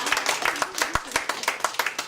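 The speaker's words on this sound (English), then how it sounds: "I just want to applaud Carolyn Ray for really coming" Audience applause at a neighborhood civic association's monthly meeting, a brief burst of many hands clapping in a roomy space, steady and moderately loud with no talk over it.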